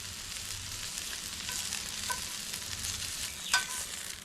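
Mud lobster (blueclaw) searing on a hot grill, a steady close sizzle with a few louder pops and a sharp crackle near the end, no voices.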